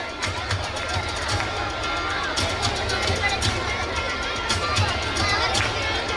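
Parents clap at a school annual prize distribution ceremony, a continuous patter of many hands mixed with crowd murmur and children's voices in a large room. Someone speaks over the applause.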